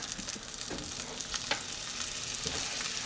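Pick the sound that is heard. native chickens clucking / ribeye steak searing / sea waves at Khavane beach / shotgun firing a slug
ribeye steak searing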